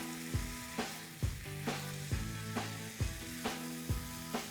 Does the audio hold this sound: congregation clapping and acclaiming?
no